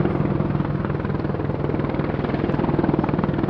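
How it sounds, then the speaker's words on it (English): An Apache attack helicopter hovering at an air show, a loud, close, steady rotor thump with rapid rhythmic blade chop over a broad turbine roar, with no voices. "you can see the Apache's powerful hover performance"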